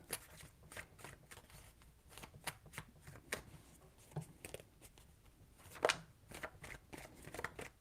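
Tarot cards shuffled by hand, a soft close riffle of repeated quick papery flicks and taps with no talk.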